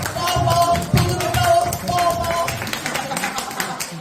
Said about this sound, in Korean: 서로에게 격려의 박수 주세요.